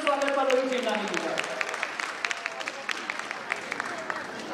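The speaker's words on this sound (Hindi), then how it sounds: "जोरदार तालियों से स्वागत पल्लवी चिमनानी जी का" A crowd claps for Pallavi Chimnani as she receives the Achiever Award at an awards ceremony. A voice is heard at first, then dense, fairly faint applause carries on, with scattered sharp individual claps standing out.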